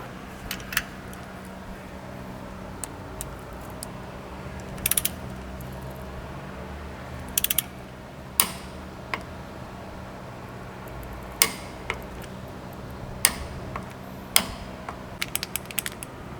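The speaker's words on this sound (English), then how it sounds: "Just torquing up this rear mount." Torque wrench tightening the diff drop mount bolts on a Toyota LandCruiser LC200 in a workshop, giving sharp ratchet clicks and scattered clacks over a steady low hum. The clicks come in irregular bursts at close range, and nobody speaks.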